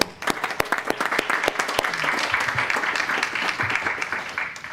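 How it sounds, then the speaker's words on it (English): A school board meeting audience applauds for about five seconds, a steady wash of many hands clapping at moderate volume with a few sharper, nearer claps standing out. "Let's give him a round of applause"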